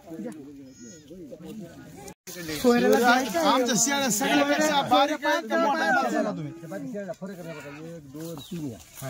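Kathiawari goats bleat repeatedly at a livestock sale, calls rising and overlapping under near, continuous talk among buyers and sellers.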